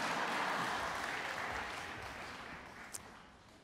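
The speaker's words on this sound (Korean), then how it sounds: "자, 이렇게 박수를 주시니 저희가 앵콜을 안 할 수가 없어서." Concert audience applause calling for an encore fills the hall as a dense, even patter of many hands, fairly quiet and gradually fading, with one brief sharp sound near the end.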